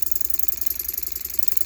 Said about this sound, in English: This is a horizontal mill type steam engine.